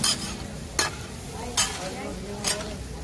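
Tawa pieces browning on a hot griddle, a steady sizzle and crackle broken by three sharp scraping strokes of a spatula at regular intervals, close and fairly loud.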